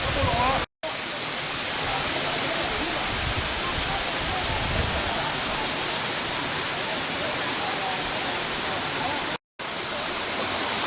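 The waterfall at Ng Tung Chai roars in a dense, unbroken rush of falling water close by, with two short dropouts in the recording and faint voices underneath.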